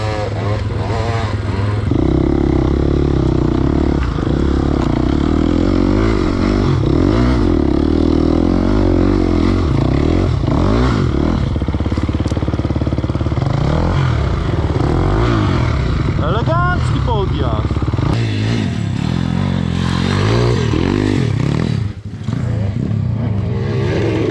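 A motorcycle engine chugs along at low revs with a steady, uneven rumble, close by, while people talk over it.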